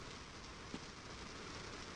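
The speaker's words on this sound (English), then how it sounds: "I guess it started raining" Steady rain falls in a video game while exploring the lower floor of Vault 116, a continuous, even hiss with no voices over it.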